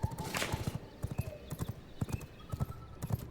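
Horse hooves clip-clop in the vampire survival game V Rising, a steady run of hollow, fairly close hoofbeats with a brief whinny near the start over a faint game ambience.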